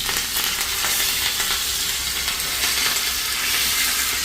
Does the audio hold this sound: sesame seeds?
yes